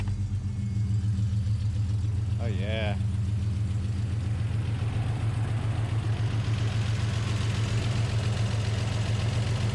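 A 1990s Toyota 4Runner 3.0-litre V6 (3VZE) engine runs at a steady, rumbling idle, close by, after a power steering pump replacement, with a brief spoken remark near the start.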